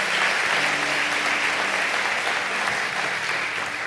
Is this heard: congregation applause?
yes